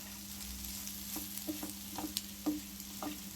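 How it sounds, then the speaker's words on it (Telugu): Potato pieces frying with curry leaves in a pan, a soft steady sizzle with scattered light pops and crackles, close and moderately quiet, with no talking. "crispy and crunchy potato fry ready అవుతుంది"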